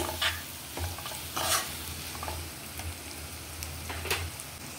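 Egg garlic roast fries over a medium gas flame, giving a soft, steady sizzle broken by a few scraping stirs of a spatula in the pan, with no voices.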